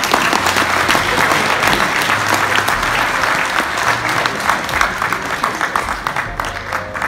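Sustained, dense applause from a banquet audience at a karate dojo succession celebration, loud and even throughout with no break.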